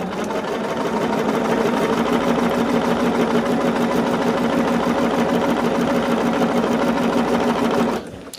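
A sewing machine runs fast and steadily while stitching quilt fabric pieces, with a close, continuous rapid mechanical chatter that stops abruptly near the end.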